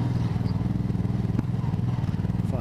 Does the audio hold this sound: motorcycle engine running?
yes